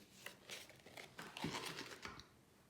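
A rectangular birthday sticker peeled off a planner sticker sheet, giving close, quiet crinkling and a soft tearing rasp that stretch over a couple of seconds with small crackly bursts, no voices.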